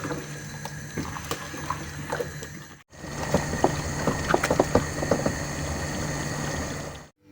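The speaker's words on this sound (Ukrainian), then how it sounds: "Постійно перемішуємо кабачки і з моменту закипання будемо варити 15 хвилин." Spoon stirring zucchini in a cooking pot, with irregular soft scrapes and light wet clicks over a steady background hum, pausing briefly partway through.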